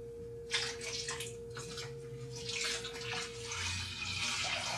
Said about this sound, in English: So we're going to do this for about 5 minutes until the wort is running really clear